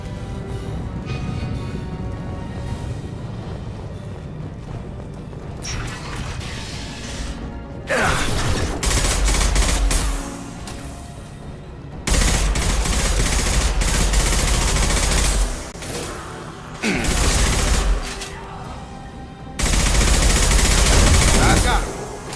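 Gunfire in the Mass Effect video game arrives as several sustained bursts of rapid automatic fire, loud and close, separated by quieter stretches of mechanical clatter, with speech present.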